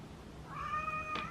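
A house cat gives a single short, faint meow, rising then trailing off, in a quiet indoor room.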